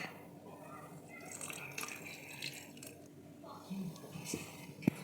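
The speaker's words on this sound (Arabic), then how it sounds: "وغنكب قليل من الماء دافئ" Warm water poured into a dough mixture with yeast for Moroccan batbout flatbread, small drips and trickles close by, faint and brief under a low background hum.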